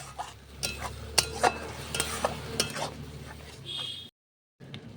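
Bean paste being stirred in a pan as its liquid cooks off: repeated scraping and knocking of a utensil against the pan over a low sizzle, close and steady, then a brief silence near the end.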